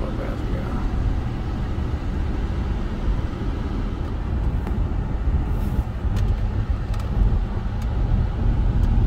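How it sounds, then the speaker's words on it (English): A 2003 Jaguar XKR idles quietly as a steady, low engine hum that stays even from start to finish, with no talk over it. "Now you get a chance to listen to how quiet this car is."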